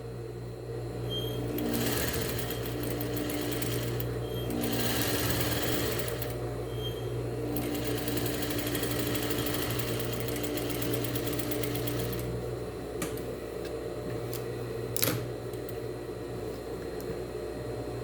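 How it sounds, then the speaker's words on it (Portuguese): A domestic sewing machine stitches a cotton tea towel, whirring in a steady close hum with a rapid needle rhythm, briefly easing between runs and ending with a small click. "E aqui eu vou fazer um meio pezinho de máquina."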